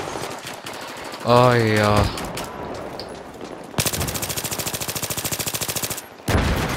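Gunfire in the video game Battlefield 3, a long rapid automatic burst of evenly spaced shots followed by another short burst, with a man's brief exclamation earlier.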